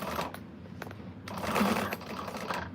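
Sewing machine stitching the base of a large quilted bag: a close, steady mechanical whir with rapid needle clatter that pauses briefly and then speeds up.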